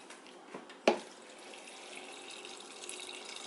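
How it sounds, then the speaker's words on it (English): Fresh filtered water running from a Brita filter jug, beginning with a sharp knock and then a steady, soft pouring trickle that fills the container, quiet and close. "I fill it up with fresh filtered water right up to the max line"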